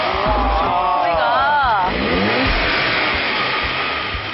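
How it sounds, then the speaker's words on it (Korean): A 2.0 TFSI car engine cranks and starts, rising into a brief rev before settling to a steady idle, loud and close. "시동 한번 막 걸어주세요."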